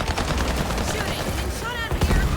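Dense rapid gunfire fills a round of the hero shooter video game Highguard, with loud, continuous, overlapping bursts and impacts. Near the end come a few short metallic ringing tones.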